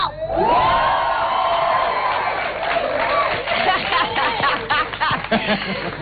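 A studio audience cheers and whoops loudly at the start of a talk-show taping, a dense roar of voices with shouts rising on top, trailing into scattered whoops and chatter.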